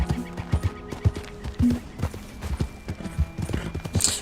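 A horse's hooves clip-clop in the video game Red Dead Redemption 2, with quick, uneven clopping that goes on continuously, heard close and moderately loud over faint game ambience.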